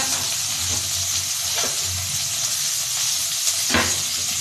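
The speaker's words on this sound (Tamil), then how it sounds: "இது எல்லாம் போட்டு நல்லா வதக்கிக்கோங்க." Onion and slit green chillies sauté in a hot pan, giving a steady, close sizzle broken by a few brief stirring scrapes, with no voices.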